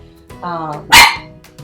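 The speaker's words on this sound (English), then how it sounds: "Our neighbor barked, and so my Delilah decided she needed to have her say as well" A pet dog barks indoors, one short loud bark after a brief whine or vocal sound, close to the microphone within a couple of seconds.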